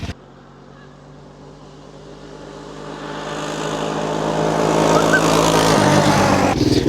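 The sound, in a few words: barn find three-wheeler engine during a top speed run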